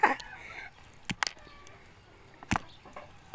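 A chicken clucks nearby in short bursts, with a few sharp knocks in between against a quiet background.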